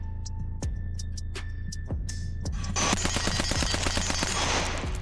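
Rapid gunfire at a shooting range target: a few spaced sharp shots followed by a fast continuous burst of rounds, loud and close.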